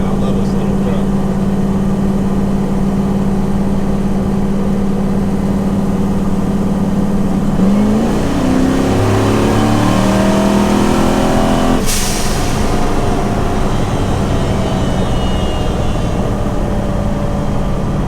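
A twin-turbo Chevy S10 pickup making about 1100 hp drives along, its engine droning loud and steady with shifting pitch as it gets on the throttle, heavy road and wind noise throughout.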